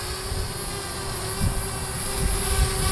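Parrot Bebop drone motors run steadily after a battery swap, an original Parrot AR Drone 2 battery fitted, giving a constant loud whine and hum with a steady tone and low rumble throughout.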